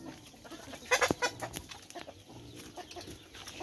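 Chickens and young roosters on a farm cluck and squawk in a burst of overlapping calls, then scattered softer clucks follow at close range, with no talking.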